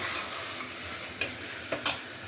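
Chickpeas being sautéed in oil with ground masala, a low steady sizzle with a few short scraping stirs near the end.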